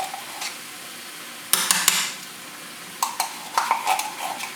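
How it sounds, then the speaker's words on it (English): A spoon clatters and scrapes in a pot as tomato paste is stirred into onions and tomatoes for a Nigerian red stew, with a few sharp metallic knocks and softer scraping strokes under a faint background hiss. "I'm going to add my tomatoes paste and mix it"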